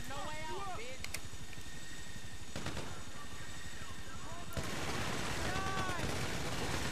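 Gunfire in GTA Online during a chaotic survival fight with helicopters, bursts of rapid automatic shots and sharp blasts mixed with vehicle noise, loud and continuous, with people talking over it.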